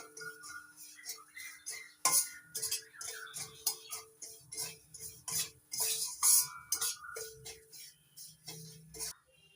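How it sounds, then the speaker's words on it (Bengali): Semolina dry-roasts lightly in a pan as a spoon stirs it, producing faint, irregular clinks, taps and scrapes of metal against the pan with quiet gaps between them. "হালকা করে একটু ভেজে নিতে হবে"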